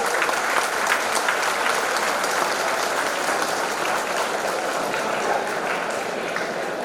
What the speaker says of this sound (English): big round of applause to all faculty members